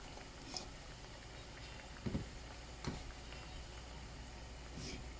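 Quiet, steady sizzling of breadfruit frying in a pan, with a few soft clinks and taps over the hiss.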